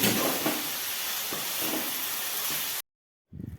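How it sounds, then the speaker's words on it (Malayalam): Onion and tomato sautéing in a pan as salt is mixed in, a continuous close sizzle and hiss with soft stirring scrapes, cutting off abruptly before a brief return. "നമുക്കിതിലേക്ക് ഉപ്പിട്ട് കൊടുക്കാം. ഇനി നന്നായിട്ട് മിക്സ് ചെയ്യാം."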